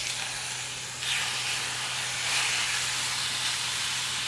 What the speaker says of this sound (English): So a little bit of oil in a pan. I'm adding the meat.